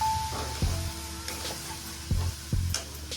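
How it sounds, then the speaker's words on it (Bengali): Coconut oil frying in a pan keeps up a low, steady sizzle, broken by a few soft scraping stirs and thumps. Nearby and moderately quiet, with no one talking. "এখন আমি জলটা দিয়ে দিচ্ছি"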